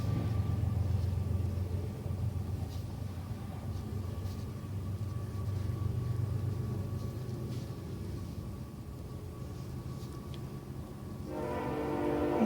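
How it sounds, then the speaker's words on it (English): A train rumbles past nearby in a low, steady roar, with a horn blast rising near the end. "Sorry about the train."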